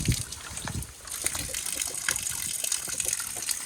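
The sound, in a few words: natural spring water gushing on a mountain roadside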